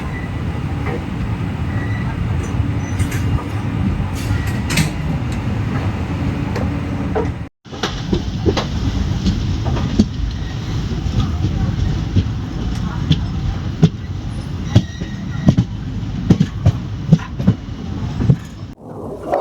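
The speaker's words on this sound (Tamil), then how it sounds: "நம்ம ட்ரெயின் இப்போ பிஃபோர் டைம்லேயே தாம்பரத்துக்கு உள்ளே போயிடும்" The Silambu Express train running on the rails near Chengalpattu and Tambaram, a steady rumble with repeated clicks and clacks of wheels over joints, heard continuously from on board under passenger voices and talk.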